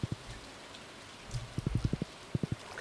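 Rain in the video game Stardew Valley: a soft, faint patter of scattered droplet taps, some grouped in quick runs of several hits, with no voices over it.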